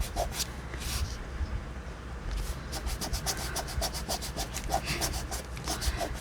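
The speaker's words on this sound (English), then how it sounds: "I just kind of put it on there and rub it." Distress crayon is rubbed in by hand with quick, repeated dry scrubbing strokes, close and fairly quiet, settling into a steady back-and-forth rhythm after a short pause.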